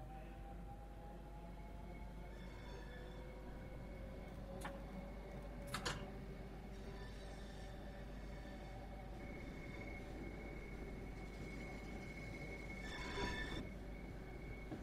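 A Class 465 electric train runs into Gravesend station, rumbling steadily with faint wheel squeals, a couple of brief clanks and sharp bursts as it rolls along, quiet and continuous with no talk.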